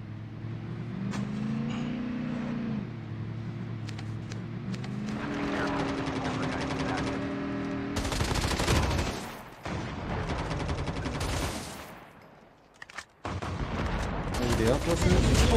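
Gunfire and engine rumble from a COD Mobile match with an AK117 and tanks nearby, loud bursts and rattling shots over a steady vehicle drone, with players talking throughout.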